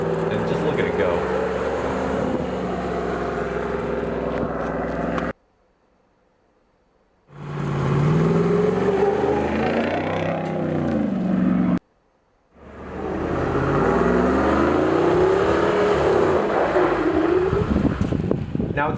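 A 2021 Jeep Wrangler Rubicon 392 with Fox Racing suspension is driven off-road. Its engine roars loudly and steadily, wavering in pitch under heavy wind noise, with two brief drops to near-silence.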